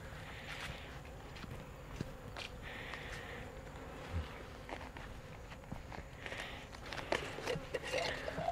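Honeybees buzz around a hive frame during a small swarm capture, a steady insect drone with brief louder passes close by and some handling noise and footsteps.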